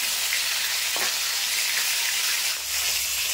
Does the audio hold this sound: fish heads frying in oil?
yes